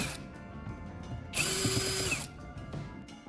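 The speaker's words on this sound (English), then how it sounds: "I'm using a drill to carefully remove all 6 caps on top of the battery" A power drill loosens the six caps on top of a car battery during a restoration; one short, fairly loud whir lasting about a second rises out of a quiet room, with no talking.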